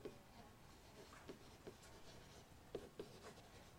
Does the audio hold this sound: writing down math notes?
yes